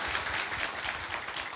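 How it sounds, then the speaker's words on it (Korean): An audience applauds at a televised crowdfunding event for social economy enterprises, a steady wash of many hands clapping at once, dense and continuous throughout, with no voices. "박수가 필요할 것 같습니다."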